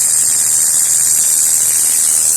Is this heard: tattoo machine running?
yes